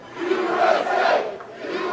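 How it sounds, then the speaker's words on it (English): A wrestling crowd in Grinnell chants loudly in unison at a 3XW event, a dense, steady roar of many voices rising and falling in a rhythmic chant. "Stryker going right to getting the crowd to chant USA"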